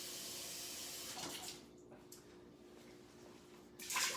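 Tap water pours into an Instant Pot, a faint steady stream that cuts off partway, followed by quiet handling noises and a brief burst of flow at the end.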